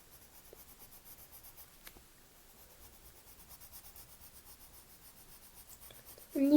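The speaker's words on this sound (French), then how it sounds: "Et le mieux, c'est de colorier en petits cercles." A pencil coloring in small circles on paper to create a smooth wood effect, a faint, steady, soft rubbing scratch that runs throughout.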